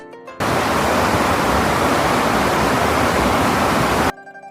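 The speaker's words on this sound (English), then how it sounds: "At first, only silence surrounded him, broken by the rushing water below." Steady rushing water flowing beneath a bridge, a loud broad wash of sound that begins abruptly and holds at an even level for about four seconds before cutting off, with no voices.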